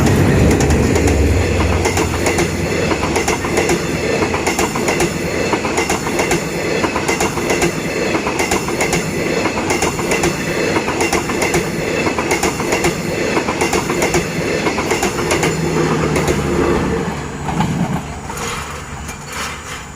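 Thaksinarat special express train 32 rolls past at Ban Khu Bua, a loud, steady rush of railcar wheels with rhythmic clickety-clack over the rails that eases slightly near the end.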